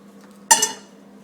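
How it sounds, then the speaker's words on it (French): A saucepan pulled out from among stacked pots, giving a single sharp metallic clatter and clink up close that rings briefly and fades in a quiet kitchen. "Donc je vais sortir une casserole."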